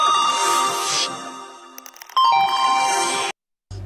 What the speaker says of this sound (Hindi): किसका फोन है ये?